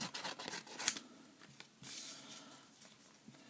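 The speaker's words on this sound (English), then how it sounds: "Cut into four little squares." Scissors snip through duct tape to make small squares, a few quiet crisp cuts with rustling and faint handling noise between them, no talking.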